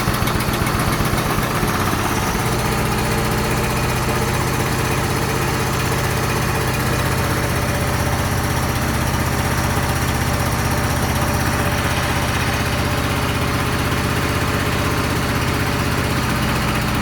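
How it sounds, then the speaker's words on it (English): A DC generator's engine runs steadily while warming up, a loud continuous close-range drone with even vibration throughout and no talking. "I'm going to go down and start the generator and let it warm up."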